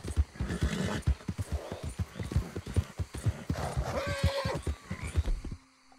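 In a video game, a horse's hooves clip-clop in a quick, close, punchy rhythm for about five seconds, with a brief whinny partway through, before the sound cuts off into quiet.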